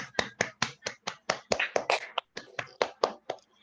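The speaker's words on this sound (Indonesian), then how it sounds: "Tepuk tangan dulu untuk kita." Sharp, separate claps ring out in a quick uneven rhythm, about fifteen distinct slaps close by and fairly quiet, as children applaud at the end of a lesson activity in an Indonesian classroom.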